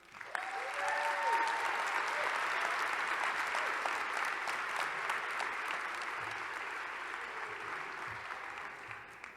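Sustained audience applause welcoming a speaker to a community college commencement, a dense steady wash of clapping from a large crowd that swells quickly and holds loud throughout.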